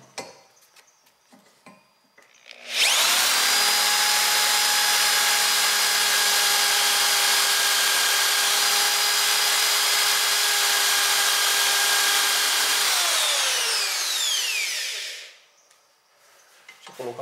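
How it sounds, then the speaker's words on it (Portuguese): An ordinary electric drill with a 3 mm bit whines loudly and steadily for about twelve seconds while boring into material, then winds down and stops, no talking. "Vamos lá, furadeira normal, broca 3 mm."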